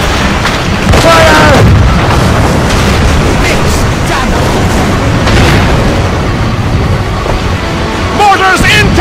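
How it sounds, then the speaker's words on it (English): Naval cannon and mortar fire booms through a sea battle in Assassin's Creed Rogue, heavy thuds and rumbling blasts stacking over constant roaring battle noise, with shouted voices mixed in. "Mortars incoming, Shay!"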